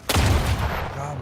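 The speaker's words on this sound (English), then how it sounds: "Ya bombaymış." A loud, sudden bomb blast in the video game The Outer Worlds 2, a sharp hit followed by a deep booming rumble that decays over about a second.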